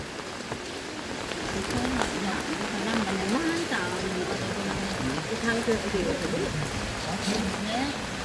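Steady rain falls outdoors during a fish-trapping outing, a broad continuous patter close by while people talk over it throughout.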